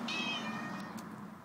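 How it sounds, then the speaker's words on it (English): A cat meows in a steady, drawn-out call close by, with faint household noise in the background and no talk over it. "Good kitty. Yeah, you're a good kitty."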